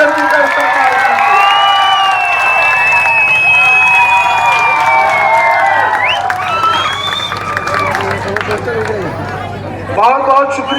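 A large crowd at an outdoor political rally on Waghi Road in Nanded roars with loud, continuous cheering, shouting, whistles and applause, close and dense throughout, easing slightly near the end.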